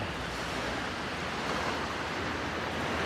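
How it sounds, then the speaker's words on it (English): Low, gentle sea waves in a sheltered shallow bay at Vlorë beach in Albania, a continuous soft wash of surf with some wind noise and no talking. "Enclosed in the bay, the waves are gonna be very low"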